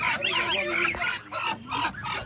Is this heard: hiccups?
no